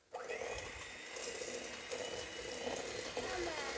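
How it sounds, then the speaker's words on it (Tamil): An electric beater whirs continuously as it whips sugar into a thick foam, a steady, fairly close motor hum with slight shifts in pitch. "நல்லா ஒரு கெட்டியான ஃபோம் வர்ற அளவுக்கு பீட் பண்ணிக்கலாம்"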